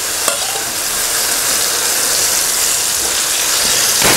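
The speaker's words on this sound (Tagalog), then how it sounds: "So, ilalagay na natin sa paggisa yung ating pinakuloang munggo." Boiled mung beans dropped into a pan of sautéing garlic, onion and tomato, giving a loud, steady broadband sizzle with a brief clatter near the start and stirring scrapes throughout.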